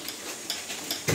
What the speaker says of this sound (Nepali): म चाहिँ यहाँ तिल भुट्दैछु।